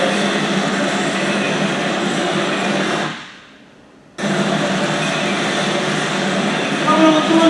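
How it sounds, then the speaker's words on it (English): A long freight train of container spine cars, some carrying 53-foot trailers, rumbles past close by in a loud continuous roar with rattling, briefly dipping into a quiet gap before the roar returns. "This is a massive train."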